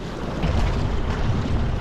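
Strong wind buffets a fishing boat out at sea off Mumbai, a steady loud roar of gusts and wind noise with water wash underneath, continuous for the whole moment with no voices.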